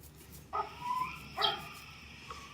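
A puppy gives two or three high, yappy barks with whiny overtones, fairly faint against quiet background noise.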